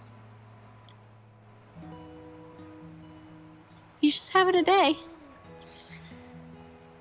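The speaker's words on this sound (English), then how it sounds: "I don't know if you can hear that cricket." A cricket chirps in short, regular bursts nearby in a garden in August while a person speaks briefly partway through.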